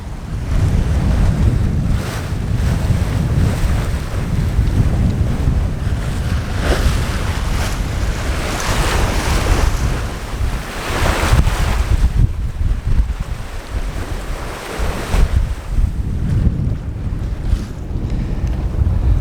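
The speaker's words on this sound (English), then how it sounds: "We've had a pretty blustery, squally sail across the channel." Blustery, squally wind and rushing waves surround a sailboat crossing an open ocean channel in the Marquesas, a loud continuous roar of gusts and surf with heavy wind buffeting on the microphone and no voices.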